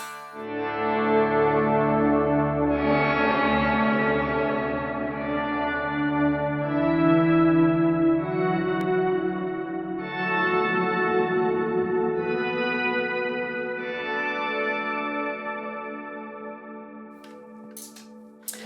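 Electric guitar through an HX Stomp with a dual-pitch, POG-style octave effect blended with a lush pad, sustained shimmering chords swelling and fading in several long phrases, rich and reverberant.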